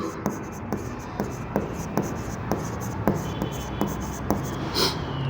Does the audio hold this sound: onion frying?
no